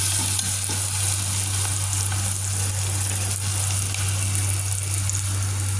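Soy sauce chicken dish (tinolang toyo) sizzling and frying in a pan, a continuous close hiss and crackle with a steady low hum underneath.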